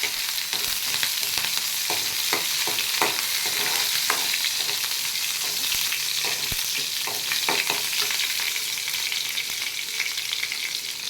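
Urad dal and a green chili sizzle and crackle in hot oil for cabbage poriyal, a dense, steady frying hiss with scattered sharp pops and occasional stirring clicks throughout, no voices.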